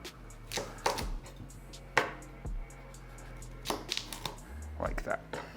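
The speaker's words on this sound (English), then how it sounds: "I like to kind of slice into it from one angle and then flip it over" A knife cuts through a vegan sushi roll filled with kabocha squash and brown rice, giving a few sharp taps and thuds on the cutting board under quiet talk.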